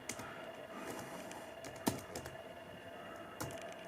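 Keys tapping on a Compaq CQ56-219WM laptop keyboard, a quiet irregular patter of light clicks with a few sharper strokes, close up.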